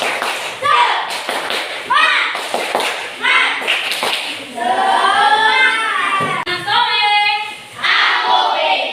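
A classroom of young children chant a rhythmic cheer in unison, punctuated by group hand claps and light thumps that land in steady bursts, with the chant itself loud and close.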